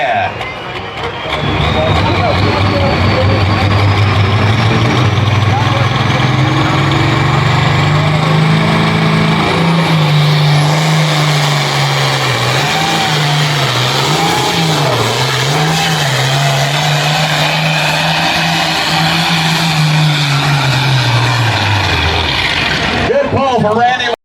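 A pulling tractor's engine roars at the Cass County Fair 2017 tractor pull, a loud sustained revving drone that rises, wavers and holds for about twenty seconds before cutting off.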